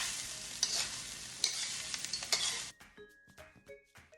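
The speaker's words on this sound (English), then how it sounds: "Now give this a quick mix up" Salmon, bacon and egg fried rice being stir-fried in a hot pan, a loud steady sizzle with scraping stir strokes, then the frying cuts off leaving a few light clinks and taps of the utensil.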